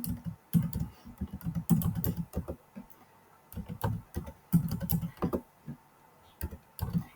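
Typing on a computer keyboard while filling in a table in Word, clusters of quick close key clicks in irregular bursts separated by brief pauses, no talking.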